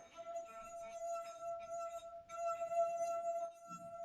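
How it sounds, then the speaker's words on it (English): A wet finger rubs around the rim of a wine glass, drawing out a steady, clear ringing tone with a higher overtone, sustained for about three and a half seconds and then breaking off. "First, you should wet your fingers, okay? Then slide them along the rim of the glass."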